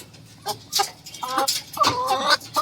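Ground-raised chickens cluck in short, irregular bursts close by, a few sharper calls punctuating the low clucking.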